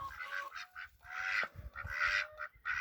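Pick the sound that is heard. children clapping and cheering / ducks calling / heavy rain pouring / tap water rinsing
ducks calling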